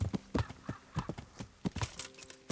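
Horse hooves clip-clopping on the ground in Kingdom Come Deliverance, a brisk, even run of close hoofbeats heard clearly, with no talking over them.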